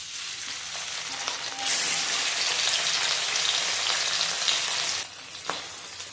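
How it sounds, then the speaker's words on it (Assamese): Fish pieces frying in hot oil in a wok, a loud continuous sizzle that swells after being added and eases slightly near the end, with no talking. "ইয়াতে এতিয়া মই মাছখিনি দি ভালদৰে ভাজি ল'ম অকণমান ৰঙচুৱাকৈ"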